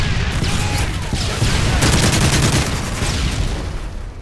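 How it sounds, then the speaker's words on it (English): In a video game, a stun grenade and gunfire make a dense, loud burst of rapid shots and booms that roll on continuously for several seconds. "Throwing a stun grenade!"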